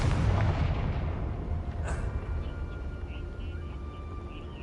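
Confringo fire spell exploding in the Hogwarts Legacy video game, a loud booming blast with a long rumbling decay that fades over several seconds, no talking.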